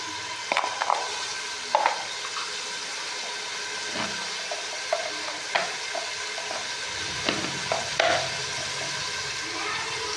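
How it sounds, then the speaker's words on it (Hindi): Cumin sizzles in hot oil for kaddu gosht, a steady close frying hiss dotted with sharp pops and the occasional clink or scrape of a spoon. "अब डालेंगे इसमें ज़ीरा"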